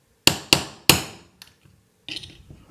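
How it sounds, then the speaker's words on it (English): A hammer taps a pin into the backstrap of a CZ P10 C pistol: three sharp, loud metallic strikes in quick succession, then a few faint light knocks and some nearby handling noise. "I'm going to take my hammer and I'm just going to tap this in."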